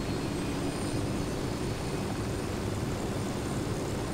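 A helicopter in the video game Ghost Recon Wildlands flies past with a steady, loud rotor and engine drone that holds evenly throughout with no voices.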